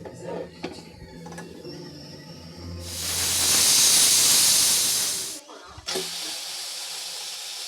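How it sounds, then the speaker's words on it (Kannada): A pressure cooker cooking chicken palak gravy lets out one long, loud hissing steam whistle lasting a few seconds, then cuts off abruptly, with quieter kitchen sounds and some talk around it. "ಒಂದು ಕುಕ್ಕರ್ ಮುಚ್ಚಳ ಮುಚ್ಚಿ 2 ವಿಷಲ್ ಬರೆಸ್ಕೊಳ್ತೀನಿ"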